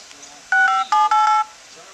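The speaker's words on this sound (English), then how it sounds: "Now, here's the phone dialer." Phone dialer keypad on a Sprint HTC EVO Android phone emitting several clear DTMF tones in quick succession, loud and close over quiet background.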